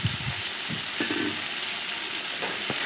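Pumpkin pieces and potatoes fry in hot oil in a wok with chilli and cumin seeds. A steady, loud hiss and sizzle runs throughout, with a few soft knocks of stirring and no talk.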